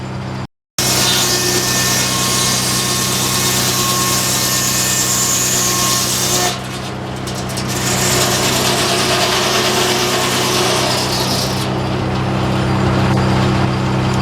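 An old-fashioned sawmill at the Mason Dixon Show runs loud and steady as a board moves back along the blade, a continuous mechanical whine and rumble with the blade rubbing against the wood, after a brief silent gap at the start.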